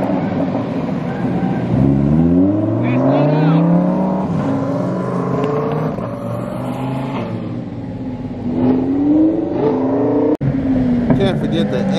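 A Lamborghini Superleggera revs loudly nearby with rising and falling engine sweeps and a sharp crackle near the end, people talking over it.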